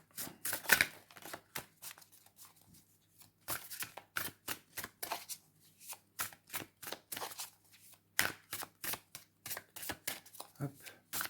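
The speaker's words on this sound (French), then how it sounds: "Je vais juste constituer les tas avec les cartes après pour que vous puissiez choisir" Tarot de Marseille cards being laid down into piles, with a quick run of light papery slaps and flicks that comes in bursts and pauses, close and fairly soft.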